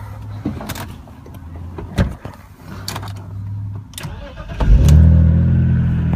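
A BMW E46 car engine cranks and fires up near the end after a few clicks and clunks, rising into a loud, close idle with no talk.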